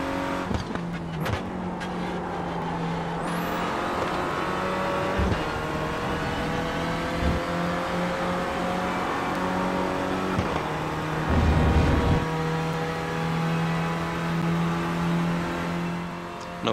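Renault Clio Cup race car engine in a racing video game at Spa, droning steadily and loud throughout, with gear changes and revs rising and dropping over a continuous whirring tone.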